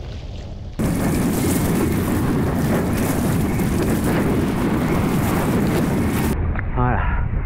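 Strong tramontane wind roars and buffets loudly against the microphone during a kitefoil session for several seconds, a dense rushing noise that cuts off abruptly near the end.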